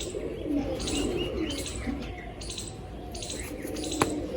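A male pigeon held in the hand struggles and flaps, with its wings rustling against a steady bed of nearby cooing and chirping from other pigeons; no one speaks.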